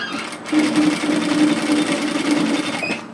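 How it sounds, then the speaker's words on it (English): An overlocker serges sweatshirt fabric pieces together, running in a steady, fast close-up whir for about two and a half seconds before slowing to a stop. "when I go to overlock serge this into place"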